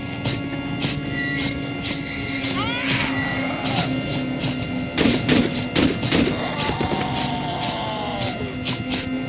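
Gunfire in the horror video game Cry of Fear: a string of sharp shots spread through the passage, mixed with high creaking and whining game sounds.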